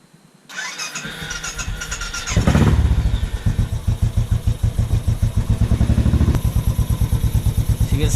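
A Royal Enfield Classic 500 motorcycle cranks and fires up, then settles into a loud, close, evenly pulsing thump-thump idle near 1080 RPM with mechanical clatter.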